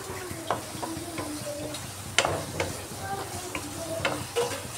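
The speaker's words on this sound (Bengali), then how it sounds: "মশলাটা খুব সুন্দরভাবে আমি কষিয়ে নিচ্ছি।" Everest biryani masala spices being sautéed in a pan for egg biryani, with soft sizzling under repeated clinks and scrapes of a spoon stirring at an uneven rhythm.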